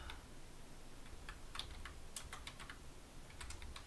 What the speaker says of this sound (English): I'll just type it in again